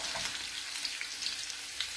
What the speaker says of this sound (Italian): Stanno friggendo i nostri carciofetti.